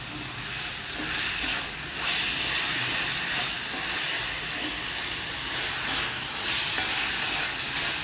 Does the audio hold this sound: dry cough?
no